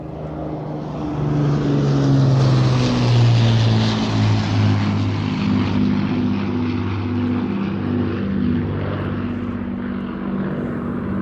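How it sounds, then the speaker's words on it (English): Propeller aircraft of the RAF Battle of Britain Memorial Flight pass overhead with a loud, droning piston-engine roar that swells and slowly fades, steady and continuous. "The Royal Air Force Battle of Britain Memorial Flight."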